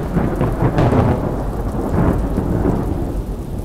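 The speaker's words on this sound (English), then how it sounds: "the thunder crashed and shook my house" Heavy thunder rumbles and crashes close by, with steady rain pouring underneath throughout.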